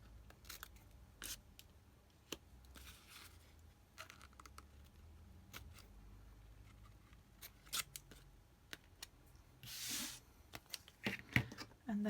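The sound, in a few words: scissors snipping V notches in paper corners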